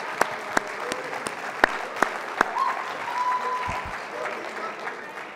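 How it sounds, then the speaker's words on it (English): Applause and cheering from students at a university first-year pledge ceremony, opening with a few sharp, loud claps before swelling into dense crowd clapping with scattered voices, sustained throughout. "That was by far the biggest cheer."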